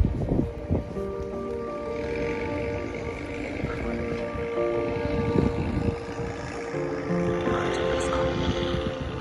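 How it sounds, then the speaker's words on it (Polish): A tour boat's motor drones steadily on open sea near Hong Island in Thailand, a continuous engine hum with wind and water rushing over it for the whole stretch. "Dobrze, że ten silnik się naprawił."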